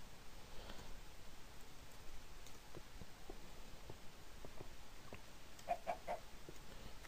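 A chicken in the Minecraft video game clucking faintly: a few short, scattered clucks over a quiet, low background, with a small cluster near the end.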